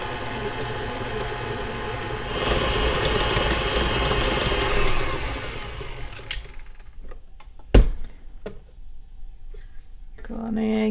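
An electric mixer creams powdered sugar and salt for rum and cinnamon shortbread cookie dough, whirring loud and steady for several seconds, then cutting off into quieter clicks and a sharp knock.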